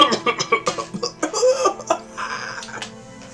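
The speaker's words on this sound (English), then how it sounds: "Father was coughing pretty badly" A man coughs badly in the video game Umineko, with a rapid run of harsh, rhythmic coughs that trail off into strained wheezy sounds.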